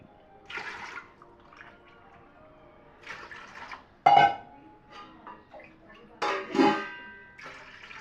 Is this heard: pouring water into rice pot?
yes